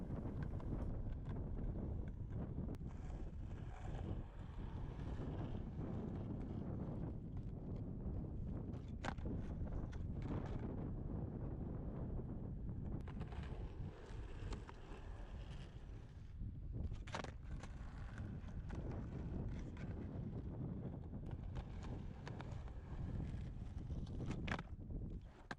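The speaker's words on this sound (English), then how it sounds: "I've turned the audio way down because it was so windy." Strong outdoor wind buffeting a camera microphone, a constant low rumbling roar with gusty surges and occasional knocks, recorded at low volume.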